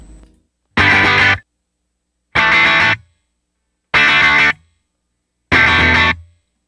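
An electric guitar played through a Line 6 HX Stomp, set to copy the distorted intro tone of a song: four loud, separate strummed chords with bright distortion and effects, each ringing about a second before stopping in silence.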